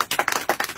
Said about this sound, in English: Applause for my daughter.